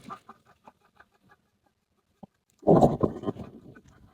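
A few faint scattered clucks, then a louder burst of chicken clucking and squawking from nearby birds.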